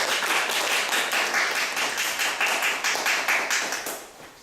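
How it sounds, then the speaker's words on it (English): Audience at a talk on institutionalized children in Korea clapping to welcome a speaker, a modest, steady round of applause from a small crowd, fairly close and tapering off at the end. "please welcome Courtney with a loud of applause"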